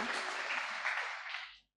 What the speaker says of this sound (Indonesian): Kasih tepuk tangan dong Bapak Ibu untuk adik-adik kita